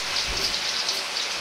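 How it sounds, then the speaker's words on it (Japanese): Pork liver bubbles and sizzles in medium-hot oil as it deep-fries briefly for Chinese-style liver and chive stir-fry, a dense, steady crackle like rain with no voices. "レバーを油通ししていきます。"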